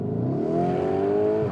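A Lamborghini Urus engine revving in Corsa mode, a loud, close, rising tone climbing smoothly in pitch before dropping off at the end.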